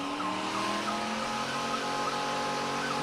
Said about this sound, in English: Dual Crown Vic burnouts.